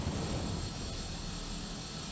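A jet engine roars continuously in Batman: Arkham Asylum, a steady, fairly quiet broadband rush inside a room with no talk over it.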